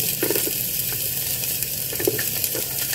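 Chopped onion hits a hot pan while pork ribs are being cooked, setting off a loud, continuous close-up sizzle with small crackles and pops throughout and no voices.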